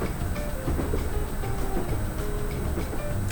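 A Class 321 electric train in a train simulator game runs on a route between Welwyn Garden City and London Kings Cross, climbing a ramp toward tunnels. It gives a steady, continuous rumble with faint rail clatter, heard alone.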